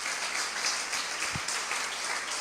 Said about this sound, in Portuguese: aplauda Ele também em nome de Jesus